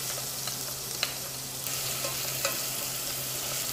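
Onion sizzling and frying in hot olive oil, a steady crackling hiss with a few sharp pops and stirring clinks, close up with no talking.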